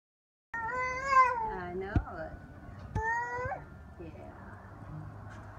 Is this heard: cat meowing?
yes